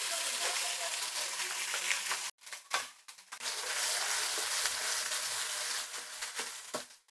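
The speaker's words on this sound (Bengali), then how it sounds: "আদা রসুন এবং পেঁয়াজ বাটাটাকে খুব ভালোভাবে ভেজে নিতে হবে যাতে করে এর থেকে কাঁচা গন্ধটা চলে যায়।" Garlic, ginger and onion paste frying hard in hot oil, a loud close crackling sizzle that briefly drops out and returns with stirring scrapes before settling back into a steady fry.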